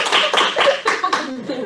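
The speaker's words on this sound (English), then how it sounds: "Can we give a huge round of applause to Rana?" Clapping from an audience at a national multicultural youth summit closing session, in quick uneven bursts of hand claps that are close and loud, with a voice briefly mixed in near the end.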